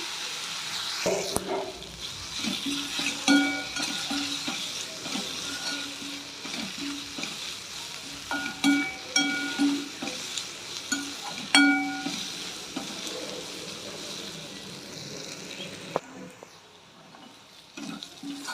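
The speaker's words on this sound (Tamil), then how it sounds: "வெங்காயத்தண்ணா கிண்டி விட்டுட்டே இருப்போம்" Onions frying on low heat for tomato sambal, a continuous soft sizzle under repeated spoon scrapes and occasional clinks against the pan, steady throughout.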